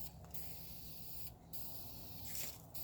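An aerosol can sprays lacquer onto a wooden bird house in a long, steady hiss with two brief pauses between passes, close and fairly loud throughout.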